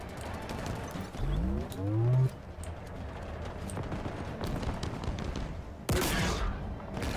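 Gunfire in the Halo Infinite game campaign: scattered rattling shots heard at a distance under a low droning background, with a sharper burst near the end.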